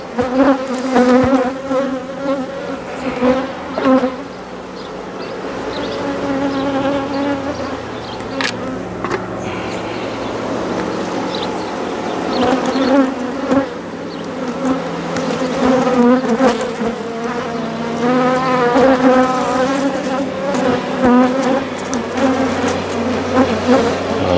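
Honeybees swarm and hum around an open hive while it is being worked, a dense, continuous buzzing with shifting pitch that stays close and loud throughout, with no voices over it.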